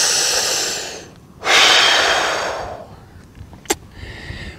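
Deep, slow breathing before a shot with a custom 7 SAUM rifle build: a long inhale, a pause, then a strong drawn breath, close and loud, followed by a sharp small click and faint noises.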